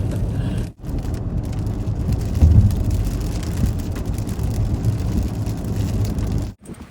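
Rain falling on a car while driving, a steady wash of patter and road noise, loud and close, with two brief dips in the sound.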